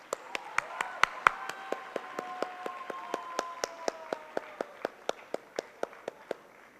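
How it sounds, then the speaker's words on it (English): A hall audience at a youth governance event gives a round of applause, heard as a run of evenly spaced claps at a quick rhythm under a voice talking over them, fairly faint overall. "round of applause, guys."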